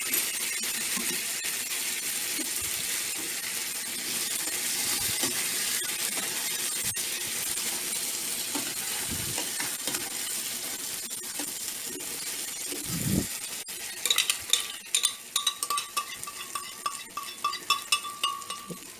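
Green salsa verde poured over browned chicken meatballs in a hot pan, a steady close hiss of sizzling, with a few clinks of a utensil against the pan and some sharper crackles near the end.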